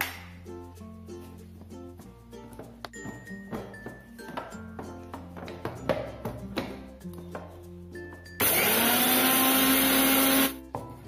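A mixer grinder dry-grinding poppy seeds and white mustard seeds: after a run of clinks and taps of kitchen utensils, the motor roars into a loud, steady whir for about two seconds, then stops.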